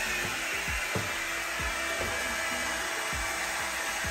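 Hairitage volumizing hot air brush dryer running on its low setting, a steady close airflow hiss and motor whir with faint rhythmic brushing knocks through hair.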